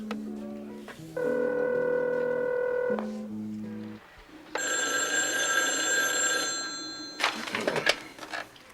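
A house telephone sounding during a call, with sustained electronic ringing tones in several separate bursts, each holding steady for a second or more, fairly close and clear, with a brief clatter at the end and no speech.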